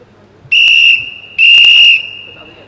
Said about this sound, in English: there was the whistle